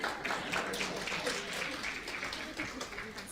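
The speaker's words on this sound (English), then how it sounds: "No, you're going to clap for me nicely," An audience claps together at a women in sport conference, a dense, steady patter that holds for the whole stretch, with voices murmuring underneath.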